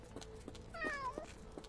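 A cat gives a single faint, rising-and-falling meow in a quiet room, with soft background noise and light taps around it.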